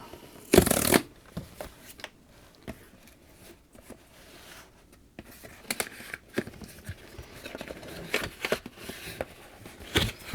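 A product box for an Elgato 4K X is opened during an unboxing. A sharp scraping burst comes first, followed by scattered close rustles, taps and cardboard sliding sounds.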